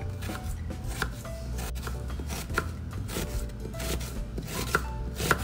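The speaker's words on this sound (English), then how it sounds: "we're gonna cut into small sections" A knife chops leftover ham into small pieces on a work surface, a steady run of soft, close thuds and taps repeating in an even rhythm with no voices.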